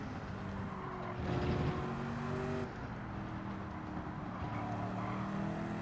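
A car engine revs in the Gran Turismo 7 racing game on the Sardegna Road Track, a steady sustained drone with shifting pitch, moderately loud and without talk.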